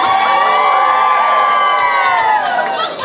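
Wedding guests cheering and whooping after a toast to the bride and groom, a loud, sustained burst of crowd shouts and high-pitched cheers that fills the room and tapers slightly at the end.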